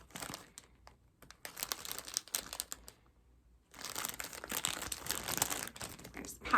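Plastic packaging around a sushi Spam sandwich crinkles and crackles close up in bursts, with a short quiet pause and then a louder stretch of rustling.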